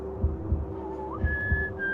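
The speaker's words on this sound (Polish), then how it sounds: "Koleżka sobie tutaj gwizdże, ale już za długo nie pogwizdże" A guard in the video game Manhunt whistles a wavering tune that slides up into a steady high note, over a steady throbbing heartbeat-like pulse and low hum.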